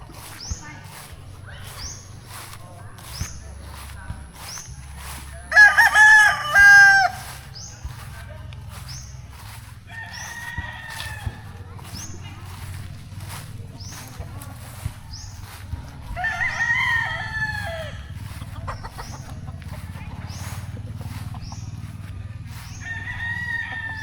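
Fighting roosters (gamecocks) crow repeatedly, a loud nearby cock-a-doodle-doo followed by more crowing, over a steady low hum with scattered faint clucks.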